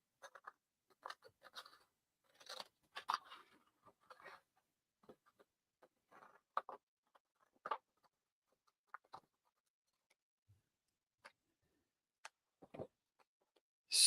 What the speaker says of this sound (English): Then I'm going to grab my scissors.